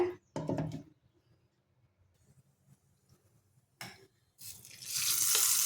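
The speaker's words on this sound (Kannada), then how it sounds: "ಈ ಒಗ್ಗರಣೆ ಇಲ್ಲ ಅಂದರೆ ಚಟ್ನಿ ಅಂತಲೇ ಅನಿಸೋದಿಲ್ಲ ನನಗೆ" Oggarane, the tempering for a spicy chutney, crackles in a pan in two short bursts, then builds into a loud, steady sizzle near the end.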